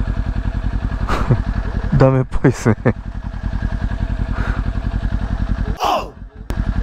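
A motorcycle engine idles and runs close by with a steady low throb on an icy mountain road in South Aso, Japan, while someone talks over it and the engine note briefly shifts.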